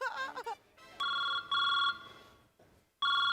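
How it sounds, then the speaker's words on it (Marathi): A mobile phone rings with loud electronic tone bursts, three rings with short gaps, after a brief burst of voice at the start. "फोन येतो माझाही फोन"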